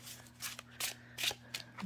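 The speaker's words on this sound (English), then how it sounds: "They will bend, but they shuffle nice." A new tarot deck is being shuffled by hand on a cloth-covered table, giving a few soft, quiet riffling bursts spaced about half a second apart, close by and without speech.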